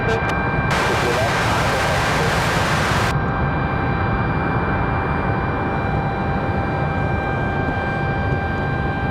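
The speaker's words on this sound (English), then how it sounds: "Southwest doing Southwest things, taxiing out quickly" A Southwest Airlines airliner taxiing out at Raleigh-Durham airport produces a steady, loud engine roar with a constant whine. A brief broadband hiss sits near the start of the clip.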